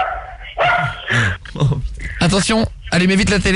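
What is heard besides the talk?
dog barking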